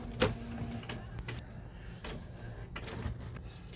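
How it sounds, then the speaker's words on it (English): An HP Photosmart inkjet printer runs an alignment, giving a series of short mechanical clicks and clunks with faint motor whirs in a quiet room. "and align the printer."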